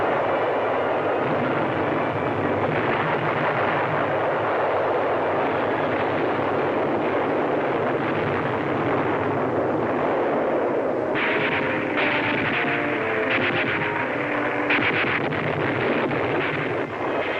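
WWII artillery fire at the front: dull, distant booms and rumbling blasts under a steady wind-like roar, with sharper repeated reports toward the end.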